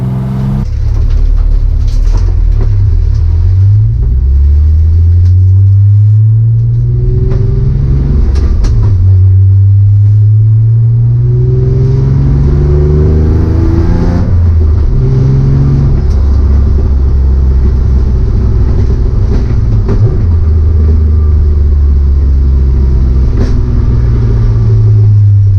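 A fully built BMW E36 M3 with Supersprint and Dinan exhaust revs hard and loud, rising and falling repeatedly, with deep throaty pulls and a drone at idle between blips.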